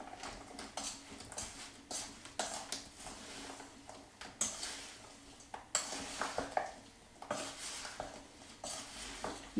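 Strudel filling with golden raisins being mixed in a bowl: irregular clinks and scrapes of a utensil against the bowl with soft stirring squelches, close and fairly quiet, no voices.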